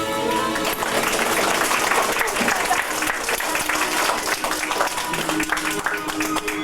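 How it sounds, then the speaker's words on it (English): An aquarium audience applauds a diver after a show, continuous crowd clapping in a reverberant hall with some murmuring voices underneath. "A big round of applause for our diver Troy and Armstrong"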